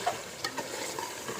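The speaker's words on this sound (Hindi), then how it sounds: "अच्छी तरह हिलाते रहेंगे।" A pan of chicken being stirred with korma masala for deghi chicken, giving a short burst of scraping stir strokes over a steady sizzle, close and moderately loud, with no talking.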